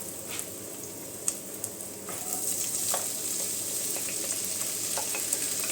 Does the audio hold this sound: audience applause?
no